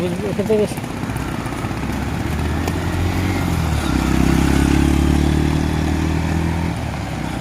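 A motorcycle engine drones past through a steady hiss of rain on the Marine Drive coastal road at Inani, Cox's Bazar, its low rumble swelling louder midway, then holding steady.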